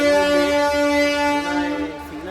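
A delayed train pulling into Santragachi junction, a steady loud tonal drone with strong harmonic bands like a sustained horn or engine note, easing slightly near the end.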